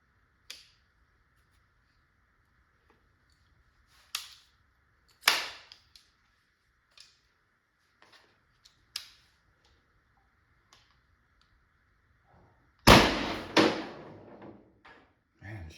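Valken M17 paintball marker with a 16 gram CO2 cartridge and fresh rounds, fired in several sharp separate shots spread over the time, with a louder burst of pops near the end.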